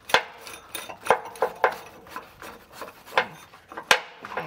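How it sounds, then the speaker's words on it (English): A socket wrench spinning a nut off a long stud during a SumoSprings helper spring install on a 2005 truck, giving irregular metallic ratcheting clicks and scraping rubs in short bursts, close and fairly quiet. "So I'm just going to spin this while I have my socket in place."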